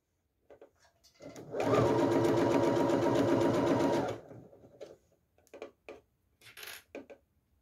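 A sewing machine stitches a seam on a fabric phone and card holder, running in one steady loud whirring burst of about three seconds, followed by a few faint clicks and fabric handling.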